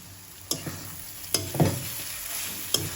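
A carrot halwa cooking in a pan as nuts are added, a soft sizzle under a few sharp scraping stirs and clinks of the spoon, close and sparse.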